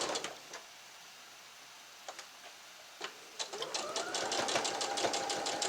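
A sewing machine runs in quick rhythmic bursts as it stitches a quilt block seam, near and steady, starting after a few faint clicks and then whirring continuously.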